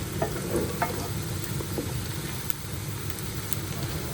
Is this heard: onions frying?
yes